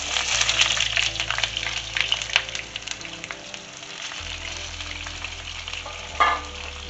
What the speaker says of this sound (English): to fry these potatoes.